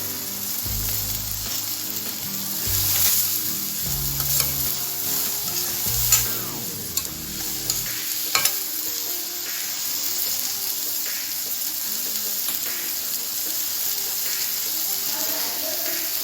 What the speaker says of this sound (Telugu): ఉల్లిపాయ కొద్దిగా మగ్గింది. బఠానీ వేసుకుందాం.